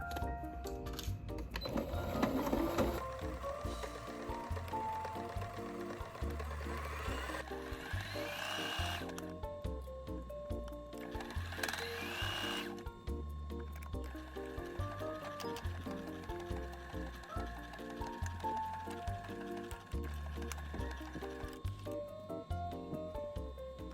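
A sewing machine runs in straight stitching runs on a thrifted jacket being made into a cropped jacket, with a steady mechanical whir and rattle under background music.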